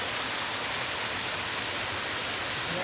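A waterfall in a rocky, hilly spot roars as a steady, dense hiss of falling water, even and unbroken throughout.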